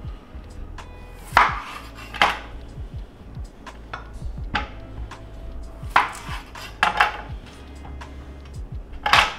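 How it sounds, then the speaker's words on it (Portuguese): A kitchen knife cuts food in half on a board, a scattering of sharp taps and clacks of the blade with a few louder knocks, close up with no talk. "Vou cortar no meio."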